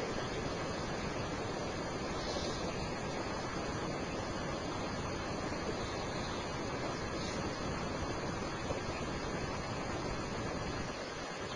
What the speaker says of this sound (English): You may now turn the motor on and continue to laminate your product.